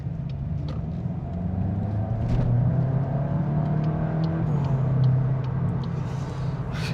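A Volkswagen Golf GTI Clubsport accelerating hard on a dual carriageway, heard from inside as a loud, steady engine drone over road rumble, with the pitch rising and easing over several seconds, and no talk.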